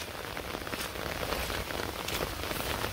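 Rain patters steadily on a surface nearby, a dense, even hiss of drops with no voices.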